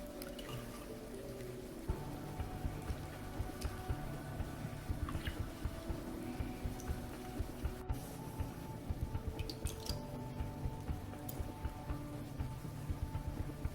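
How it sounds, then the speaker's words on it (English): Homemade slime being kneaded and squeezed by hand, giving soft wet squishing and sticky smacking noises in an irregular stream, close and fairly quiet, with no talk. "You have to mix it with your hands very well."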